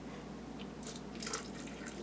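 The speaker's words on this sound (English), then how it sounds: "I'm gonna go ahead and I'm not gonna measure the apple juice, I'm just gonna pour it in" Apple juice is poured into a Vitamix blender jar holding fruit, giving a soft, steady splashing trickle with faint bursts of liquid noise, quiet and close.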